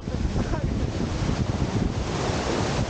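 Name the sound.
ocean waves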